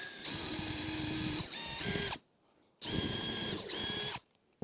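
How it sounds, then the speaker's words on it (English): A power drill with a small pilot bit whirs in two bursts while pre-drilling holes in a stool, pausing briefly between them, loud and close with a steady high motor whine. "I'm going to grab another drill with a small pilot bit, put that in the center."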